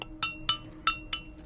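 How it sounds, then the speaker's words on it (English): A metal spoon clinks against a mug of hot chocolate with marshmallows, five bright, close taps spaced roughly evenly, each with a short ringing tail over faint background hiss. "That's the sound of the spoon in the mug."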